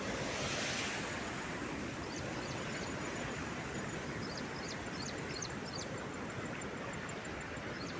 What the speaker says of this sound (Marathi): हे बंधारा दिसतंय बघा व्हिडिओमध्ये. फुल भरून वाहतंय बघा.